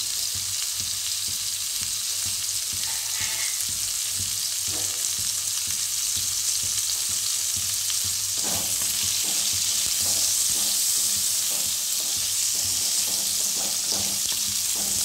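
Steady, loud sizzling and crackling as a bay leaf fries in hot oil in a pan for a Bengali jackfruit curry, with continuous frying hiss and occasional stirring taps.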